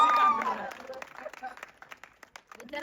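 A small crowd at a song-shoot gathering claps in scattered, uneven bursts after someone speaks. The clapping is fairly faint and sparse, with talk at the start and end.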